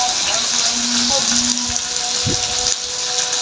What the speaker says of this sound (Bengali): লবণ দিয়ে আলুটা একটু একটু ভাজবো